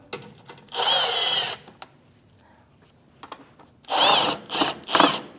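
A power tool spins a 7mm socket to back out splash shield bolts under a 2016-2025 Chevrolet Malibu, giving a loud whirring burst, a pause with faint clicks, then two more short bursts close by.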